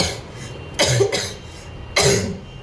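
Two separate coughs, each short and fairly close, spaced about a second apart over a quiet indoor background with no talking.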